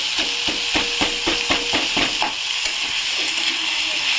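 Hilsa fish head frying in a hot pan over a high gas flame, a loud steady sizzle broken by a run of rhythmic scraping strokes as it is stirred, then the sizzle carries on alone.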